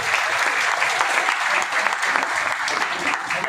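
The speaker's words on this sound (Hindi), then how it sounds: "जोरदार तालियां" Loud, dense applause from a large audience at a community gathering, steady and sustained throughout without letting up.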